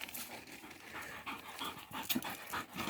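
A thirsty, worn-out dog pants rapidly and close by, quick rhythmic breaths with small whimpering catches and no voices.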